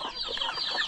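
A chicken clucking in a backyard pen at a rural hut: a short run of soft, close clucks, fairly quiet, with no one talking.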